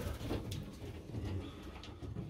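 Pigeons coo softly in a pigeon loft, low, faint murmuring calls repeating over a couple of seconds amid light rustling, with no talking.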